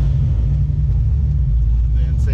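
A car engine fitted with a Megasquirt fuel-injection controller runs steadily with a deep, constant low rumble, close and loud, throughout the short stretch without a distinct climb in revs.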